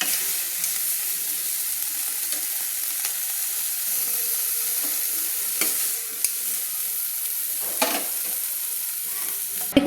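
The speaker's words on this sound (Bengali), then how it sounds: "এবার আমি চামচ দিয়ে তুলে নিচ্ছি চিংড়ি মাছগুলো" Shrimp sizzle in oil in a frying pan and are scooped out with a spoon: a steady bright hiss, with a few soft scraping clinks of the spoon against the pan and no talking.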